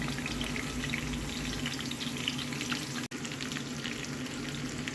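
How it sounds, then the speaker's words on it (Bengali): Cucumber and potato pieces fry in mustard oil with salt and turmeric, giving a steady close sizzle and bubbling hiss with a brief dropout partway through. "শশা আলুটাকে আমি সর্ষের তেলের মধ্যে লবণ হলুদ দিয়ে ফ্রাই করে নেব"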